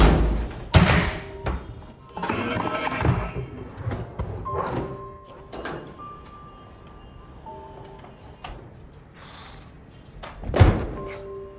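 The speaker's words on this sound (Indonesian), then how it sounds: "mencoba membuka pintu itu, namun pintu itu macet dan tidak bisa terbuka" A jammed door being forced, with a series of heavy thunks and thuds from pushing and rattling at uneven intervals, plus one loud bang near the end and quieter knocks in between.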